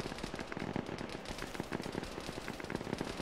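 Rapid machine gun fire rattles in the video game Clan Factions, with a fast, continuous burst of shots that is fairly faint.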